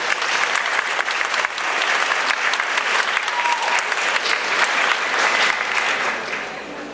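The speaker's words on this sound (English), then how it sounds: "applause for Assemblymember Tedesco" Loud, continuous applause from an audience honoring an assemblymember at a humane society event, many hands clapping steadily and close for several seconds before tapering slightly.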